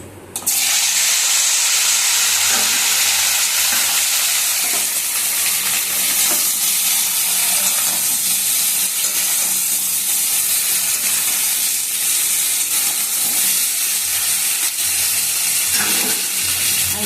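Washed vegetables, including eggplant, drop into hot oil seasoned with black cumin, bursting into a loud, sudden sizzle that settles into a dense, steady hiss with faint stirring sounds.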